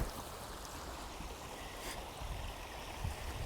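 A deep river below a landslide rushes in a steady, broadband wash of flowing water, fairly close and continuous, with a few faint knocks over the top.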